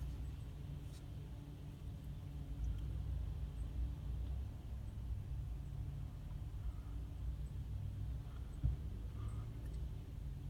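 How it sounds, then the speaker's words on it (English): Cars drive past on a road near a Morrisons car wash, a steady low rumble of traffic that swells gently and fades, fairly distant, without talk. "Sorry for cars that keeps coming past or whatever."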